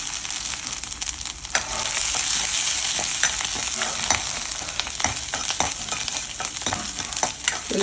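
Crushed green chilli and garlic fry loudly in a mustard-seed and fenugreek tempering, a dense, close hiss with intermittent crackles and spoon scrapes throughout, no voices.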